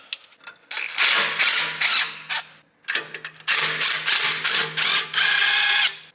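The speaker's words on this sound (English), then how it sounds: "Now we need to remove these 3 bolts here." Several quick bursts of ratchet clicking come from loosening bolts on the downpipe of a 2022 Honda Civic, each burst close and loud, separated by short pauses and small handling noises.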